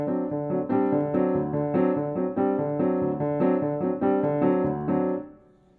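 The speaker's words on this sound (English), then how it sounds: "a riff, or the definition of a riff, is a ostinato pattern that kind of repeats over and over again." A solo jazz piano plays a repeating ostinato riff, a rhythmic chordal pattern cycling steadily at moderate loudness for several bars before the last chord fades out.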